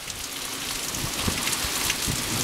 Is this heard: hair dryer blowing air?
no